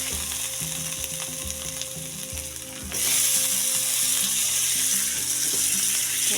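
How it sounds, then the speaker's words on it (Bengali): Ginger sizzling and frying in hot oil in a pan, a steady close crackle that grows louder and brighter partway through, with faint stirring and scraping against the pan. "আদাটা একটু তেলে ভাজতে হবে"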